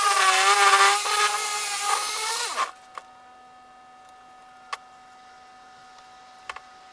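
A power sander works over a wooden dog bowl stand in a buzzing, whining burst for a couple of seconds, then cuts off, leaving near silence broken by a few faint isolated clicks.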